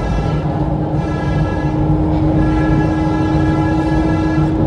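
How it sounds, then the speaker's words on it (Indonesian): A passenger train passing a level crossing while traffic waits at a green light, a loud continuous rumble of rolling wagons with a sustained horn tone running through it. "harus tahan dulu karena ada kereta lewat"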